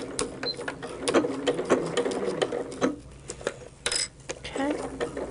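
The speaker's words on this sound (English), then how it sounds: "And we're sewing right to where that line takes a turn." A domestic sewing machine stitches a quilt block in short bursts of rapid, even needle clatter, stopping and restarting between runs, close and clear, while a person talks quietly between the stitching.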